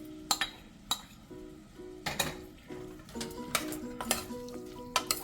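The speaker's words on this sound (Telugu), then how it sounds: "ఇప్పుడు సన్నగా కట్ చేసుకున్న టమాటా ఉన్నాయి కదా, ఇది వేసేద్దాం." Finely chopped tomatoes frying in a pan, a soft sizzle broken by regular sharp clinks and scrapes of a stirring spoon on metal, close and unaccompanied by speech.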